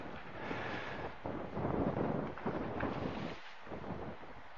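Steady wind roars across a sailboat moving at six to nine knots through the doldrums, a broad continuous gusting rush with water noise, loud and close throughout.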